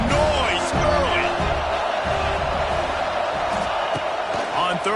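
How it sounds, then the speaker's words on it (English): Football stadium crowd at a Middle Tennessee versus Tennessee game roaring and cheering in a continuous loud wash of noise, with a commentator talking over it. "This crowd bringing the energy and noise early."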